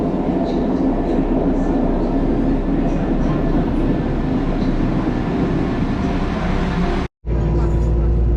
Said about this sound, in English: today I'm going to catch a train here from Worcester over to Malvern Link